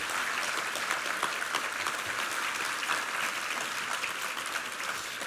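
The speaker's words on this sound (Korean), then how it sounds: "우리 하나님께 감사와 영광의 박수 올려드리겠습니다." A church congregation applauds in worship, a dense wash of clapping from many hands, steady and somewhat distant with no voices over it.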